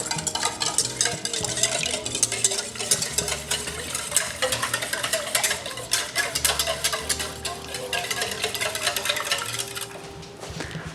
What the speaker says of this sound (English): now that I have mixed together the wet ingredients